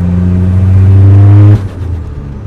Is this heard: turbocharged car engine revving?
yes